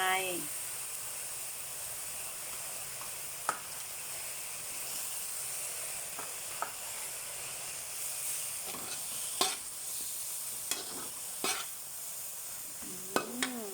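Cabbage stir-fries with glass noodles in a hot pan, giving a faint, steady sizzle and hiss broken by a few sharp scrapes and clinks from stirring.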